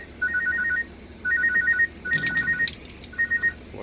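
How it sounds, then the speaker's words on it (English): A phone ringtone signals an incoming call, playing four bursts of a repeating electronic tone pattern with short pauses between them, near and clear, beside a washing machine being drained of water. "Wife's calling me."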